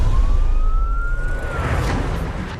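An ambulance siren wails steadily as it rises in pitch over the first half, loud and close, above a constant low road and engine rumble while paramedics stop the vehicle.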